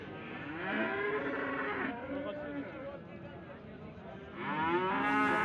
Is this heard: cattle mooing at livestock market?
yes